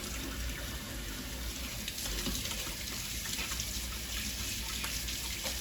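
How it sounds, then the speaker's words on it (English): Hands being washed under a running tap at a kitchen sink, a steady soft rush of water with slight splashing variations, faint and continuous, with no talking. "So, let me wash my hands."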